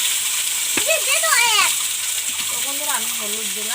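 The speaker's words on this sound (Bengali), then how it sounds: "এখন আমি আলুগুলো ভেজে নেব" Potatoes frying in oil in a pan for a paneer masala dish, a steady broadband sizzle running throughout beneath a voice talking over it.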